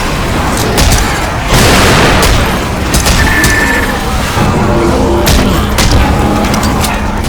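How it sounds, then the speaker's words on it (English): Left 4 Dead 2 gameplay fills with loud, dense booming and rumbling blasts, bursts of gunfire and continuous noisy combat, with one grenade explosion among them. "Fire in the hole! Grenade!"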